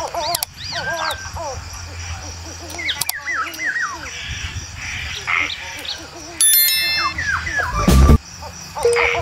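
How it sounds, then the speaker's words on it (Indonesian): Assorted birds chirp and call in a busy forest chorus, with croaking frog calls mixed in and a brief loud clatter near the end. "Ada suara burung, ada suara katak, dan ada suara yang aneh-aneh juga ada di sini."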